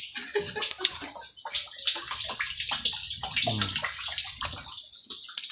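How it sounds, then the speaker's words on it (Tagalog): Water rushes hard and steadily from a tap, splashing and gurgling into a basin with a constant hissing spray. "May pumapatak sa gripo. Sobrang lakas."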